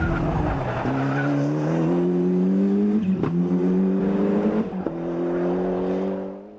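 Ford Escort Cosworth rally car in the British Rally Championship, its engine droning steadily with strong harmonic tone, broken by sharp gear-change dips and brief tire scrabble, loud and close with no talk.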